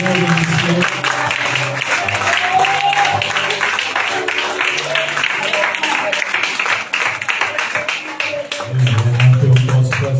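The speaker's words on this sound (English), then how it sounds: "Why don't you clap your hands unto the Lord in this place?" A church congregation claps along with music and voices during a worship service, steady rhythmic hand claps blending into a loud, full room sound.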